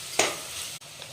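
Spices sizzle and crackle in hot oil, a steady hiss with a louder burst near the start and a brief stir or clatter midway.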